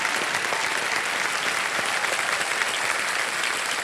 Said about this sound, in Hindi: तालियां बज जाए योगेश जी के लिए